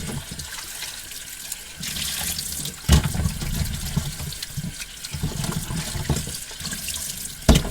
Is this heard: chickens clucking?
no